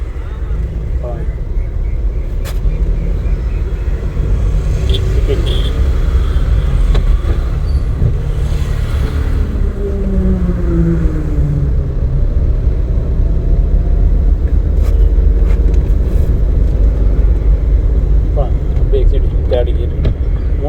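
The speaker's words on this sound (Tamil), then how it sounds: "மூணாவது கியர் போட்டு எக்ஸைட்டை மிதிக்கும் போது நம்ம அப்படியே இந்த ரோட்டுக்கு போக ஆரம்பிச்சோம்" A car in a driving-school lesson shifts into third gear and accelerates onto the road, a steady loud engine rumble that continues throughout, close by, with a voice talking over it.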